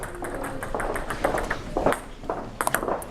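Table tennis ball struck with a paddle at an indoor parasport demonstration, several sharp clicks and bounces in an irregular rally, with faint voices in the room.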